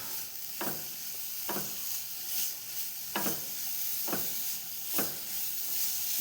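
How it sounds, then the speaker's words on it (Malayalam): Beetroot sautéing in ghee in a pan: a steady soft sizzle and hiss with about five rhythmic scraping stirs spaced roughly a second apart, quiet and close, with no talking. "നെയ്യിലൊന്ന് വാട്ടിയെടുക്കുക."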